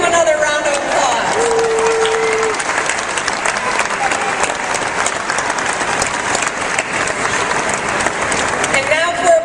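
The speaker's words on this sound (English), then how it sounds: "Let's give them another round of applause." An audience gives a congressional delegation a sustained round of applause at a Michigan labor union gathering, with dense, steady clapping throughout and a few voices audible over it.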